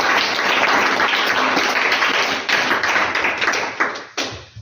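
Audience applause for a children's general-knowledge quiz contest, a dense steady wash of clapping that continues loudly, then thins out with a few last claps near the end.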